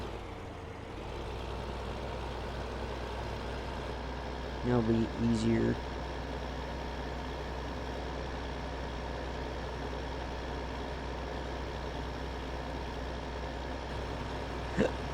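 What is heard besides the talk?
truck engine in a farming video game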